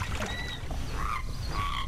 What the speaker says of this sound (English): you can hear the birds and the frogs and a very low, low tone.